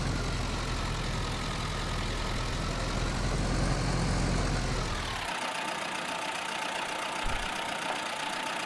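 A tractor engine idles in Farming Simulator 19 with a steady, loud mechanical rumble for about five seconds. It then cuts to a much quieter hum with a faint ticking.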